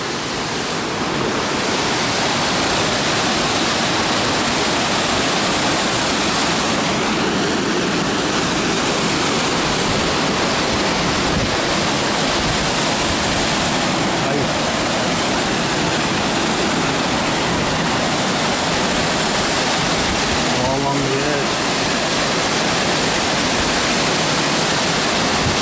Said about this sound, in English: Long Creek Falls